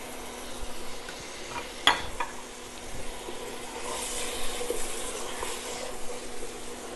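Tomato and tomato puree sizzle in a curry pan for bunny chow, a steady crackling fry with a sharp clatter near the two-second mark and the hiss swelling slightly toward the end, no talking.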